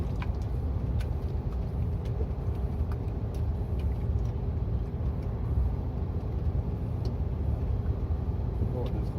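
A semi-trailer truck creeping slowly along a narrow road between Gérardmer and Saint-Dié, a low steady engine rumble heard from inside the cab while people talk.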